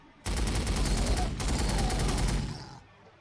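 Punisher tanks in the Warhammer 40,000: Sanctus Reach strategy game fire a loud, continuous rapid burst of gunfire lasting about two and a half seconds, with a brief dip midway, then cutting off.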